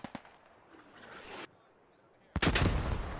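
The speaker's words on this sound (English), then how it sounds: "Mortars coming in now." Mortar fire in the Post Scriptum battle game: a few sharp reports, then a hush, then a loud, close blast roaring out and lingering.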